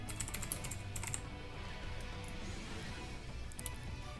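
Computer keyboard typing during an online Pokémon Omega Ruby and Alpha Sapphire battle, quick bursts of clicky keystrokes in short clusters, fairly faint over a low background hum.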